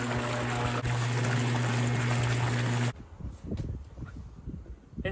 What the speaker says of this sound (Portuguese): Agora nós vamos conferir ela aqui na água, a potência de velocidade.